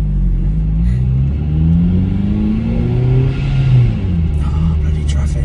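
A supercharged Honda Civic FN2 engine accelerates on the road, heard as a steady loud rumble with a rising, pitch-sweeping engine note, up close, followed by a slight easing.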